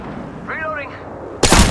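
Sharp gunshot blast in a shooter video game, a single loud report at the very end, after a brief stretch of game noise and a short voiced tone.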